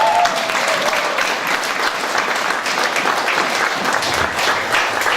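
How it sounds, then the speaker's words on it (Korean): A hall of party members at a Justice Party founding convention in Daejeon applauds the party leader's arrival, dense sustained clapping that stays loud and even throughout. "힘찬 박수로 맞아주십시오."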